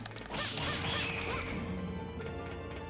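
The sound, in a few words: bird noises made by lizard men in the video game Raging Blades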